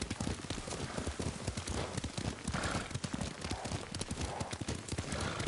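Horse hooves galloping in the samurai video game Ghost of Tsushima, a fast, dense, continuous drumming of hoofbeats, loud and close, with no pause.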